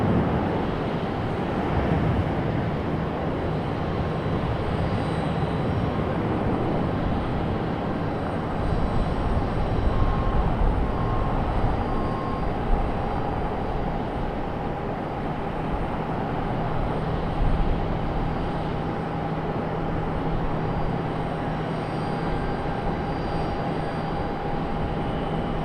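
An American Airlines airliner departs Raleigh-Durham airport with a loud, steady broadband engine roar that holds across the whole stretch, with no talk over it.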